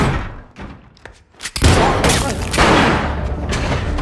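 A gunfire exchange in a film scene: quiet thuds and scattered shots at first, then a loud burst of shots and impacts that continues as a heavy, dense barrage.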